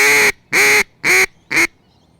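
Four loud, evenly spaced nasal quacks blown on a duck call imitating an Australian black duck greeting call, each short and sharp with a brief gap between them.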